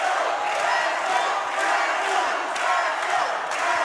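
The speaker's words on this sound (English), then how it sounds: "Crowd's getting loud behind their guys." A crowd at a Cage Titans MMA fight event roars and cheers loudly, a continuous wash of yelling and whoops sustained without a break, with faint commentary beneath.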